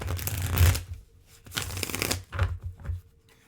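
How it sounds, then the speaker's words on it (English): Playing cards are shuffled by hand during a card reading, giving three or four short, crisp riffling bursts separated by brief pauses, close and fairly quiet. "while I'm shuffling these cards"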